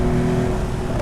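Steady engine roar from inside a Porsche 911 Carrera T accelerating, a loud low drone holding constant throughout the short moment.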